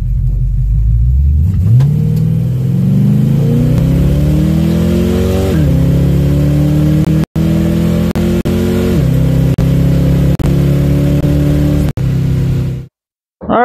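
A Foxbody Mustang weighted to 3,600 pounds makes a drag strip pass, its engine loud and close as it revs through rising pitch sweeps with abrupt drops at each gear shift for over ten seconds, then cuts off.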